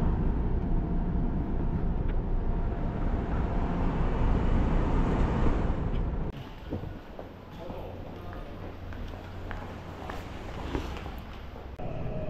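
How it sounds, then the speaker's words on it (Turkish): A tram in South Korea rumbles loudly and steadily for several seconds, then the noise drops to a quieter interior hum broken by light clicks and knocks. "Bir de tramvayın sesi."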